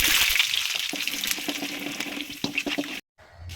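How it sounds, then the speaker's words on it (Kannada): Peanuts, chana dal and urad dal fry in hot oil with mustard seeds, giving a steady close hiss with small crackles that cuts off abruptly near the end. "ಅದಕ್ಕೆ ಶೇಂಗಾ ಬೀಜ, ಕಡಲೆಬೇಳೆ, ಉದ್ದಿನಬೇಳೆ ಇಷ್ಟನ್ನು ಹಾಕ್ಕೊಂಡು ಫ್ರೈ ಮಾಡ್ಕೋಬೇಕು"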